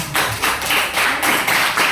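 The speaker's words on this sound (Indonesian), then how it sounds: "tepuk tangan buat kelompok 1" Fifth-grade classroom applause for a student group at an elementary school, a short, fairly loud burst of children clapping in uneven pulses, no voices.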